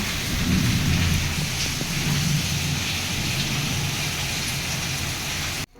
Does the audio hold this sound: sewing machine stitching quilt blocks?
no